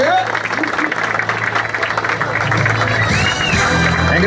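Crowd applause under a loud voice talking over it, with steady clapping from a sizable audience throughout.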